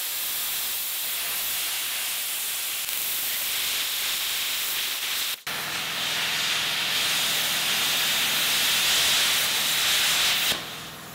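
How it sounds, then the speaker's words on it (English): A plasma cutter slicing through the thin, worn-out, hole-ridden metal of a Kubota loader bucket, cutting just inside a weld: a loud, steady close-up hiss that roars louder after a brief break midway and runs without talk. "I'm going to take my plasma cutter and I'm actually going to cut just on the inside of that weld"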